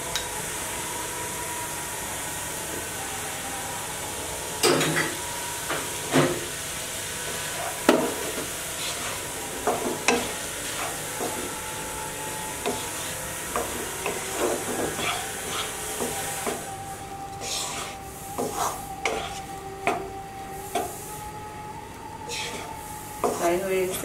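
Egg vegetable fried rice with soy sauce being stir-fried in a pan: a soft sizzle broken by repeated sharp clanks and scrapes of the spatula against the pan, with a voice faintly present at times.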